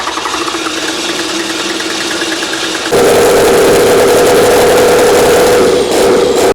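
A derelict old 12-valve Cummins diesel starts for the first time in years and runs rough, with a loud, close, uneven rattling clatter and a steady droning hum that jumps sharply louder partway through.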